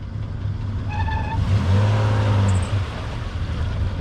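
A Toyota 4Runner engine revs up on the throttle, rising to a loud sustained roar before easing off, steady engine rumble throughout with no talk.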